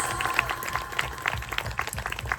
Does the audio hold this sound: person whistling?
no